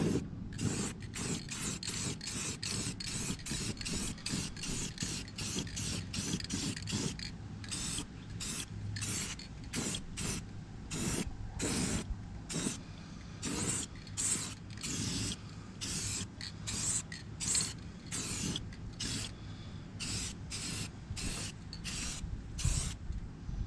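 Spray paint hissing onto the wheels of a 1981 GMC in short and longer bursts, a rapid run of quick pulses giving way to irregular sprays, close and steady, with no talking.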